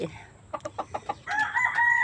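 A broiler rooster of a meat breed, about two months old, gives a rapid series of close clucks, then a short strained crow.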